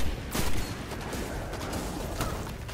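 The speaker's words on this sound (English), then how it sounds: "How about I shoot him down since he's using a sniper?" Shots fired at an enemy player in Destiny 2, a short volley of crackling gunfire with a sharp burst at the start and lighter shots trailing off, close and fairly loud.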